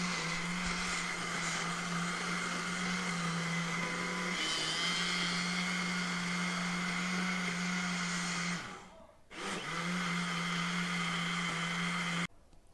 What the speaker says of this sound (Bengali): পানি দিয়ে আমি আবার এটাকে ব্লেন্ড করছি।